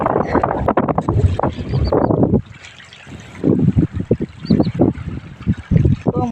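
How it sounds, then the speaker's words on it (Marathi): Wind-driven waves lap at the edge of the Veer Dam reservoir. Choppy sloshing and splashing sound close and loud, with gusty wind rumble against the microphone and a quieter lull midway. "हे बघा, अशा लाटा येतात।"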